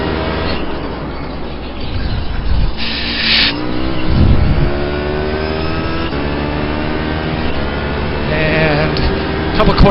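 A grand touring race car engine howls at Sebring at night in a racing video game, loud and steady with rising revs, other cars nearby, and a voice talking over it.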